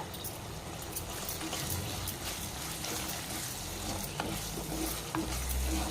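A spoon stirs tamarind pulp into a simmering bottle gourd and sesame curry, giving a steady wet scraping and bubbling texture over a soft sizzle, close and continuous throughout.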